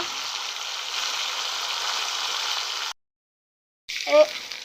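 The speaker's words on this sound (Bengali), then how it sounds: "আমি অনেক দূরে থেকে ভিডিও করতেছি কারণ এটা অনেক ছিটা ছিটা আসতেছে তেলটা" Pigeon meat frying in hot, splattering oil in a home kitchen, a loud steady sizzle that cuts out for about a second and then resumes, with a brief voice near the end.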